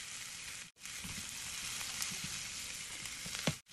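Zucchini sizzles steadily in a hot pan with shallots, a continuous bright frying crackle with a brief gap and a few stirring clicks.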